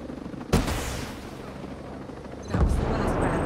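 Gunfire in the video game Ghost Recon Breakpoint: a loud, sharp shot lands, followed by a rumbling tail and a second heavy burst about two seconds later, all over a steady background of game ambience.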